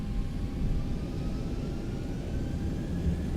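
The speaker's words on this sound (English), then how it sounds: "guys got a little engine noise?" Boeing 737 jet engines in a flight simulator, a steady broadband roar with a low rumble and faint whine, continuous and fairly loud throughout, with no talking.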